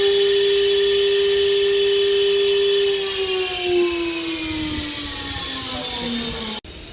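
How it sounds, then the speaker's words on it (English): A CNC router spindle runs with a high steady whine that slowly falls in pitch as it spins down, fairly close and alone, ending with a brief click near the end. "For example, I press it. You will see the spindle is running."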